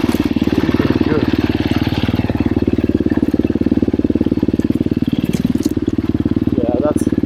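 KTM 350 XCF Factory Edition dirt bike engine on a cold-morning singletrack ride, a loud, close, steady pulsing thump with slight throttle swells throughout.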